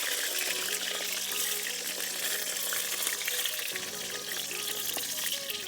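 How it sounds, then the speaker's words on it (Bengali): Brinjal pieces fry in hot oil in a pan, giving a dense, continuous close sizzle with a slight shift partway through and no speech. "যে বেগুনগুলো আমি এভাবে ভেজে নেব।"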